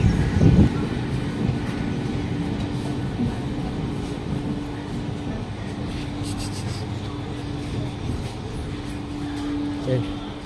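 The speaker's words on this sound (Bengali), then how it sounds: "এই যে আমাদের ট্রেন এসে পৌঁছে গেছে অন্ডাল যাওয়ার জন্য" A Kolkata–Jammu Tawi train pulling into the platform at Andal station: a low steady rumble of wheels and carriages, with a sustained tone and faint clanks, over station ambience.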